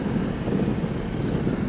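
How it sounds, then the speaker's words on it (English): Wind rushes steadily over a rider on a 2021 Sym Maxsym 400 scooter, a loud, even roar behind the windscreen with no other sounds. "No buffeting, a lot less wind noise, so the windscreen is doing its job."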